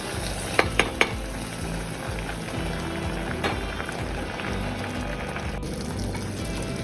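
Large green chillies tipped into vegetables cooking in a pot for sodhi kulambu, with a few sharp knocks at the start and then a steady, continuous sizzle and bubbling.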